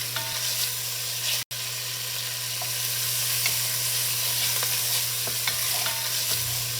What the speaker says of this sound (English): The bacon is frying up nicely.